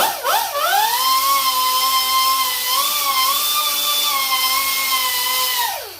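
A handheld rotary tool whines steadily while polishing the top of a piston crown. The high pitch bends as it spins up, holds for several seconds with slight wavers under load, then winds down near the end, close and alone.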